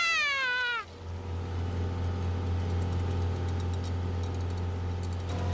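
A sailboat's motor runs steadily as the boat leaves the marina, a constant low engine hum that goes on without a break after a short high wavering cry at the start.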